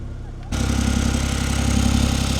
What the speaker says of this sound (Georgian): დაქოქილია, ცოტათი ყანყალებს ძრავი,